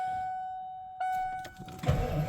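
An old truck's engine cranks and catches on a cold winter day after a hard start, a sharp mechanical burst followed by rough rumbling as it fires up, close and fairly loud.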